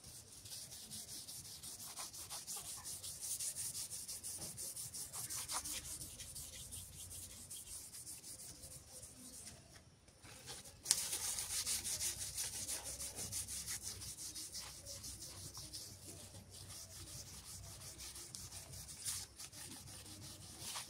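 Boal fish being rubbed and scraped clean by hand gives a soft, continuous, gritty scrubbing sound close by. It is faint overall, with a brief pause midway before the rasping resumes.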